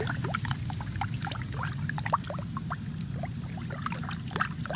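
Frequent small drips and trickles of water fall in quick, irregular succession over a constant low rumble, close and soft.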